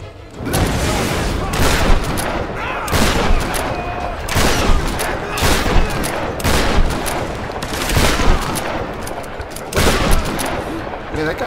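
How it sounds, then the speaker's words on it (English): In the Tomb Raider game, bursts of gunfire crack repeatedly, some rapid like automatic fire, with heavy booms mixed in. The fire is loud and dense throughout, and voices are faintly present underneath. "Just heard somebody shoot at me."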